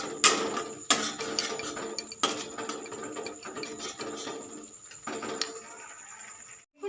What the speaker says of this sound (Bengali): গ্যাস সিমে দিয়ে মশলাটা কষাতে থাকবো যতক্ষণ না মশলাটা থেকে তেল ছেড়ে বেরোয়।